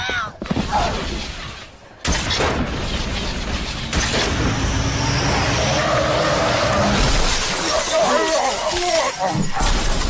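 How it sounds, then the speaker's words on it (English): In Halo 3 ODST, a car crashes into a group of brutes amid a loud, continuous din of smashing, shattering impacts and explosive booms, with voices shouting through the chaos. "A car just came out of nowhere! Smashed all the brutes!"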